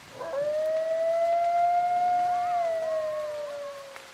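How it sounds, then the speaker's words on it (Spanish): A single loud, close howl on a rainy night, held as one long sustained note that rises slightly and then wavers and falls away near the end. "de repente escuché un aullido muy fuerte"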